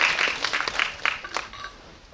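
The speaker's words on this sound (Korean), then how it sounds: "큰 박수로 맞이해주세요" Cinema audience applauding to welcome the guests at a film guest-visit screening in an auditorium, a dense clatter of many hands that thins and fades within a couple of seconds.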